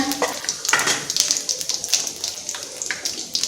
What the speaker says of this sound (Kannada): ಈಗ ಎಣ್ಣೆ ಬಿಸಿ ಆಯಿತು. ಸ್ವಲ್ಪ ಜೀರಿಗೆ, ಸಾಸಿವೆ, ಶೇಂಗಾ ಬೀಜ,